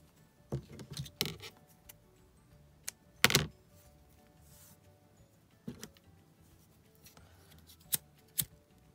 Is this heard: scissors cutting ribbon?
yes